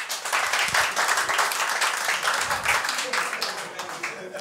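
Audience applause and clapping at a German stand-up comedy show, a steady, dense burst of many hands lasting throughout, loud and close with no speech over it.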